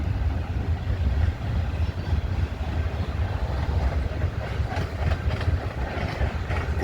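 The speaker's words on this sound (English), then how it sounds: "Train going by there, the CP rail train." CPKC (Canadian Pacific Kansas City) freight train rolling past in Alberta, a steady loud low rumble of wheels and cars with faint clicking, continuous throughout without talk.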